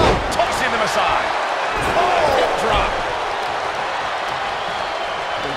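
Virtual arena crowd in the wrestling game WWE 2K23 during a Royal Rumble match, a loud roaring cheer with a heavy thud near the start, fading slightly as commentary talks over it.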